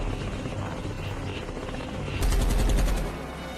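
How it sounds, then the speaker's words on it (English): An enemy helicopter from a war movie flies in while spraying the area with gunfire, its thudding rotor throb joined by a loud burst of rapid shots near the end. "an enemy helicopter flies in, spraying the area with bullets"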